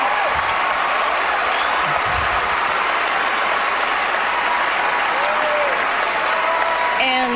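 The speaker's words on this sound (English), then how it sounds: "We applaud." Applause from an audience in a played-back recording, a thick, continuous wall of clapping with crowd voices mixed in, holding steady and loud from start to finish.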